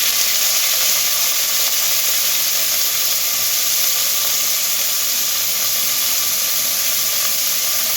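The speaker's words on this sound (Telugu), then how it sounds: "ఇప్పుడు ఇందులో కట్ చేసుకున్న ఉల్లిపాయలు, పచ్చిమిర్చి, కరివేపాకు వేసుకుందాము" Chopped onions, green chillies and curry leaves sizzle in a pan with fried lentils for a potato, drumstick and tomato curry, a steady hissing fry that holds constant throughout with no talking.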